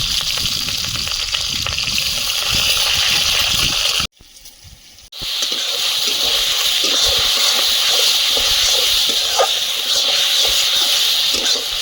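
Loud steady sizzling of food in hot oil in a wok during home cooking of gourd with egg, a harsh continuous hiss that cuts out abruptly for about a second near the middle, then resumes just as strong.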